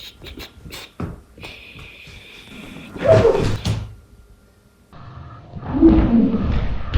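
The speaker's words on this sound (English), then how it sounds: "We are unable to explain why the chair opened up, but there is a possibility that it's just an old couch" An old chair or couch opening up by itself. It starts with scattered soft knocks and a sustained faint hum, then comes two bursts of heavy creaking, groaning and thumping furniture movement, separated by a brief quiet gap.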